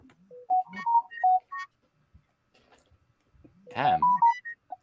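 A mobile phone ringtone plays a short rising and falling electronic melody, twice with a pause between, fairly clear, with a brief voice mixed into the second burst.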